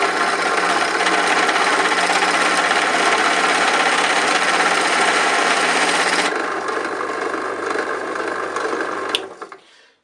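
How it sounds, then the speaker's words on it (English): Pillar drill boring into metal, a loud continuous grinding rasp with chattering texture that holds steady, eases slightly partway through, then winds down and stops near the end, with no talking. "So the drill's cutting,"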